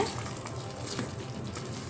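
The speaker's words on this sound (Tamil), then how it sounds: "ஒரு நிமிஷம் மிக்ஸ் பண்ணி விட்டு ஒரு நிமிஷம் கழித்து தான் நம்ம தண்ணி சேர்க்க போகிறோம்" Basmati rice being stirred into a simmering tomato mixture in a pan, a soft, continuous frying sizzle with faint scraping, quiet and close, heard without talk.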